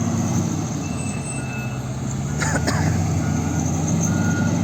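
Heavy machinery and trucks work at a ring road and tunnel construction site, a loud continuous engine rumble with a steady tone and a brief higher screech near the middle.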